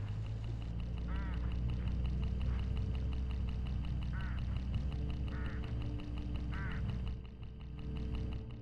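Hooded crows along a road in the HitchHiker video game give several short harsh calls over a steady low rumble, spaced irregularly across the stretch.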